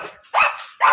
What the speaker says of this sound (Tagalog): Ayan, maingay ang ating mga aso.